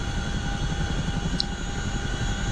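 A CH-47F Chinook helicopter idles after startup in the DCS flight simulator, its engines and rotors making a steady, even drone with a low thrumming throb, close and continuous without voices.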